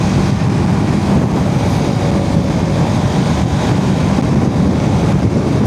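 Wind buffeting a rider on a BMW F450GS motorcycle on an expressway, a loud, constant broadband roar with rumbling low end throughout, no voices.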